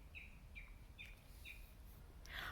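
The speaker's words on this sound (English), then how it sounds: "Do you hear the birds in the background?" Four short, evenly spaced bird chirps ring out over a steady low background rumble, followed by a brighter burst of twittering at the end.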